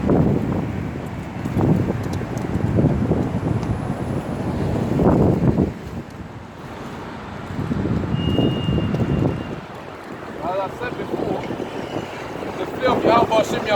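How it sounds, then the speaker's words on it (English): Strong gusts of wind buffet the microphone outdoors in rumbling bursts, easing and returning, with voices speaking now and then beneath the noise. "Despite it being windy, as you have witnessed just now"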